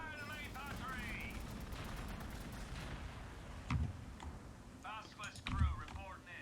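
Main battery fire in the Warhammer 40,000 strategy game Gladius comes as a few heavy, distant thumps over a steady battle rumble, with voice lines of troops heard around them.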